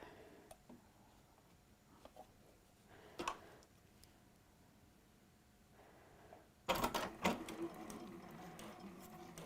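A sewing machine stitches a shoulder seam on the front of a garment. A brief burst comes early, then a louder, sustained run of stitching fills the last few seconds over a quiet room, with no talking.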